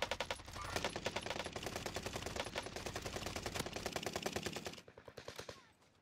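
Sustained automatic gunfire from a shooter video game, dense rapid bursts firing almost continuously for several seconds before cutting off, followed by a few scattered shots.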